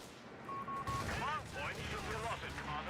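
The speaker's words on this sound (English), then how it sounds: "We have an airstrike coming in, a strafing run coming in." Strafing-run gunfire from an airstrike in a video game, a dense rattling burst under ongoing commentary, loud and close with overlapping crackle throughout.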